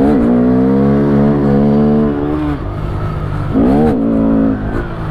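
Honda Grom motorcycle engine revving loudly up and down while being ridden, close by, two distinct rising revs with a steady idle-like drone between, no talking.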